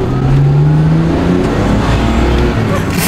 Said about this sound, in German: die Reifen haben sich durchgedreht